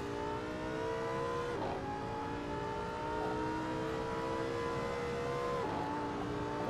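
A race car in Assetto Corsa laps Laguna Seca, its engine holding a loud, steady, high-pitched whine. Two brief dips in pitch mark gear changes or lifts on the throttle, and no one talks over it.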